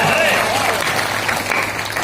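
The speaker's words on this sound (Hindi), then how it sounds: "उठाओ जी हाथ बजाओ जी ताली।" An audience at a Hindi poetry gathering in Bhabhua claps in a dense, steady burst while a voice carries on over the applause.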